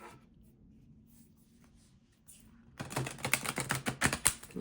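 A brand-new deck of playing cards being shuffled, a dense burst of crisp riffling clicks starting midway and running to the end, close and fairly loud after a quiet stretch.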